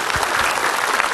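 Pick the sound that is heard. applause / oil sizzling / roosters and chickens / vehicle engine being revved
applause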